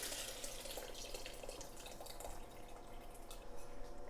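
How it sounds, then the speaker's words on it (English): Leftover cooking liquid poured from a pan into a pot of rabbit bone broth, a faint steady trickle with small drips and splashes running the whole time, with no voices. "there's a lot of liquid left on the pan, so I'm just going to pour that right in there"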